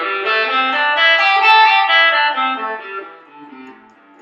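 Distorted electric guitar runs through a first-position minor pentatonic scale shape, notes flowing legato and overlapping in a steady line, loud and sustained with effects, fading at the end, with no voices.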